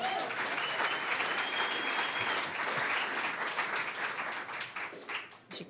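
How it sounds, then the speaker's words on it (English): A storytelling-night audience applauds, dense steady clapping filling the room for several seconds before tapering slightly at the end. "another round of applause for Aaron and Ben"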